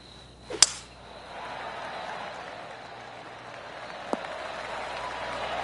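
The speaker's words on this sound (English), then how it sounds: "Oh, golf clap." Polite golf clap from a tournament gallery in the PGA 2K23 video game, a soft spread of applause swelling gently after a sharp crack near the start and holding steady at a moderate level.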